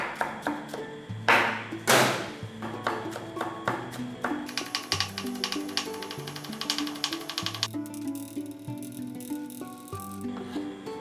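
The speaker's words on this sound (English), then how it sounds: "I chopped the green peppers." Green peppers being chopped with a knife on a cutting board, a series of sharp, close taps in an uneven rhythm with a few louder strikes, over faint background music and no talk.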